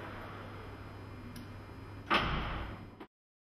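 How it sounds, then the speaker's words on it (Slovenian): A hands-free power tailgate swings shut and latches with a single solid thud near the end, over a steady low background hum; a faint high tone may run beneath. "se prtljažna vrata zaprejo po približno 3 sekundah. Pri tem pa zaslišite zvočni signal pisk."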